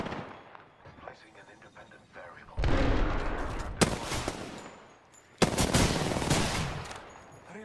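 Apex Legends gunfire comes in two long, loud bursts of rapid automatic shots with sharp single cracks between them, close and heavy, and a player's voice is heard in the quieter opening.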